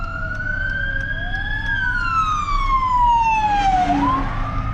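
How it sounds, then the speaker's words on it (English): A wailing emergency siren sweeps up and down in pitch, steady and moderately distant over a low rumble of traffic. "that's all you see is sirens every single day"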